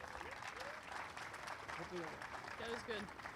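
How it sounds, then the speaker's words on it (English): Audience applause at a public art dedication ceremony in Elmhurst, a steady broadband patter of clapping across the whole clip with voices and brief calls mixed in over it. "Please give a quick round of applause for the chair of the City of Elmhurst Public Arts Commission, Betsy Goltermann."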